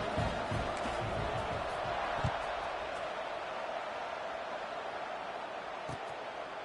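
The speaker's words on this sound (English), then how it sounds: "this crowd is feeling themselves after that last drive" Stadium crowd in NCAA 26 college football, a broad steady roar of many voices holding constant throughout, with a commentator's voice faintly underneath.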